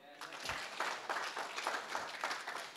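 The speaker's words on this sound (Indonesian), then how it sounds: "Tepuk tangan dong." Congregation applause during a church sermon on building a happy family, a short burst of many hands clapping at moderate volume that continues evenly through the moment, with some voices underneath.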